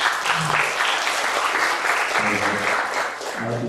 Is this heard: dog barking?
no